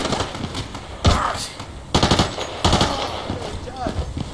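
Automatic gunfire in the video game Battlefield 2, with rapid bursts of shots around one, two and nearly three seconds, a short firefight heard close and loud over background game noise.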